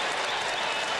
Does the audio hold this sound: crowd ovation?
yes